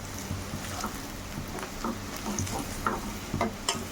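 Jackfruit curry seasoned with Kashmiri chili powder stirred in a pan, a steady soft scraping and gentle sizzle with small clinks throughout, close and moderately quiet.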